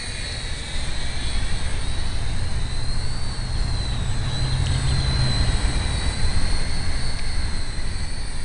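Radio-controlled model airplane flying at low rate, a steady engine or motor drone with a high whine, heard continuously from a moderate distance over broadband outdoor noise, no talking.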